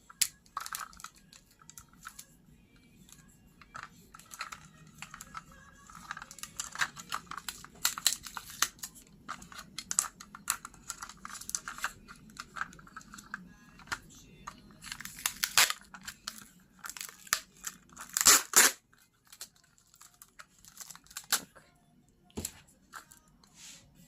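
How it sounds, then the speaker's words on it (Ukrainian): A roll of 40-50 mm packing tape is fitted into a lightweight plastic Prosun PS8051 hand dispenser with sharp cutting teeth, giving quiet scattered clicks, crinkles and plastic rustles with a few louder snaps midway. "Зараз спробуємо встановити скотч."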